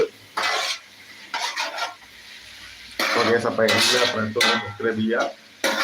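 Onions are stirred with ginger and garlic paste in a pan for a biryani feast, with clinking spoon scrapes and a soft sizzle that come in bursts, heard under and between a person talking.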